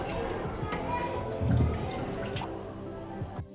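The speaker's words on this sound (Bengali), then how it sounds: "আম ছিলে নেওয়ার পর এখন আমি আবার ধুয়ে নিচ্ছি।" Peeled raw mangoes are rinsed in water, giving soft quiet dripping and sloshing close by, with a brief louder splash partway through.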